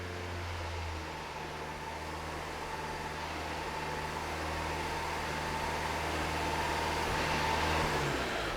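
A Vauxhall Opel Astra engine idling close by, then rising slightly as it is revved, a steady low drone with a gradual increase in loudness toward the end.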